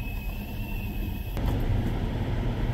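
A truck's engine idles and rumbles nearby, growing louder midway as it starts moving, with a steady low drone and a faint high whine early on.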